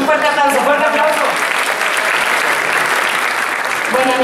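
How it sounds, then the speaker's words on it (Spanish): An audience applauds at a live show honoring Celia Cruz, loud dense clapping from a crowd that keeps going without a break. "Un fuerte aplauso."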